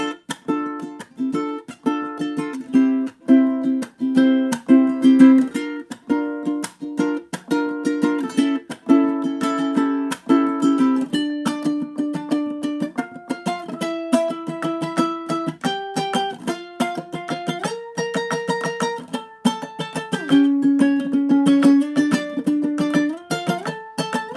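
A plucked ukulele plays a melodic solo in parallel octaves, starting with quick strummed chords and moving into a flowing line of paired notes, clear and alone.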